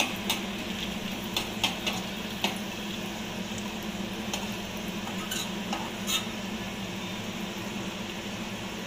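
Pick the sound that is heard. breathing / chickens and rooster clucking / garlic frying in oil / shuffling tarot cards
garlic frying in oil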